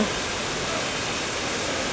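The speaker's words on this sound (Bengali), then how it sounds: "কিন্তু ঝুম বৃষ্টি পড়তেছে।" Heavy downpour on a street, a dense, steady hiss of rain continuing evenly throughout with no talking.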